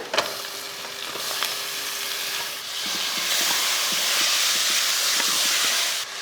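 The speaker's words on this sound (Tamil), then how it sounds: "சேர்த்துட்டு தக்காளி நல்லா வதங்கட்டும்." Tomatoes fry with spices and coriander powder in a hot pan, a continuous bright sizzle that swells gradually, broken by a few soft stirring scrapes and taps, with no talk.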